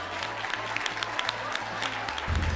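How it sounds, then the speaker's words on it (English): Applause from the audience at the LASCO Teacher of the Year awards, steady crowd clapping throughout with a low steady tone beneath and a louder swell at the very end. "Big round of applause."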